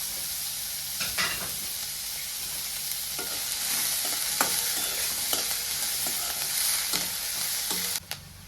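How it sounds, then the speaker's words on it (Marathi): Onion, green chilli and capsicum fry in oil in a pan, giving a continuous sizzle with sharp clicks of a spoon stirring against the pan every second or so, steady and fairly close, no voices. "एक शिमला मिरची घेतली ती पण टाकते तेलात"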